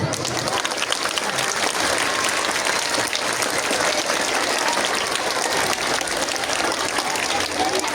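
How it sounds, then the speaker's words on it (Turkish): An audience at a new modern school's opening ceremony in Biga, Çanakkale, applauds the teachers with dense, steady clapping that fills the hall for the full stretch, loud and unbroken. "Sizden bir ricam öğretmen arkadaşlarımızı bir alkışlar mısınız?"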